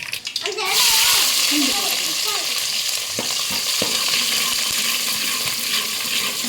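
Fenugreek, mustard and cumin seeds sizzle loudly in hot oil, a steady close frying hiss with occasional pops and stirring clicks, and a voice speaks faintly in the background.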